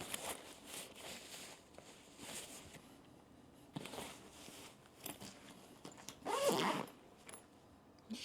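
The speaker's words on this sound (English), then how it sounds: "Zipper's here, opens up like this." Zipper pulled open along the padded laptop pocket of an Osuza canvas backpack, heard as several short close rasping strokes, the last one longest and loudest, in a quiet room.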